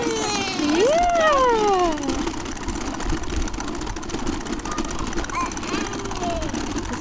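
A small bike engine idles with a steady, rattling mid-pitched chug throughout, close by, while voices talk over it.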